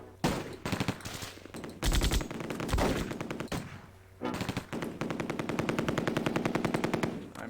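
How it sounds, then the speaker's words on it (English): Machine gun fire from the WWII tactics game Close Combat comes in rapid repeated bursts with short gaps between them. The longest stream of shots falls near the end, and the sound is sharp, close and loud. "I'm hearing an MG."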